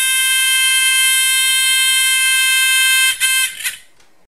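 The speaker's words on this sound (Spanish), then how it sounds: "vamos a ver qué ocurre en este zumbador cuando lo conectamos de dos formas diferentes" Electronic buzzer wired into a school-project Morse telegraph circuit sounds a loud steady tone for about three seconds, then cuts off with a few stuttering pulses before falling silent.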